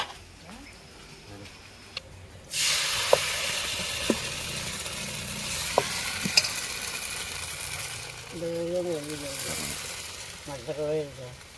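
Appam batter hits a hot pan in a decades-old village eatery, setting off a sudden steady sizzle after a quieter start, with a few sharp clicks of utensils and brief voices near the end.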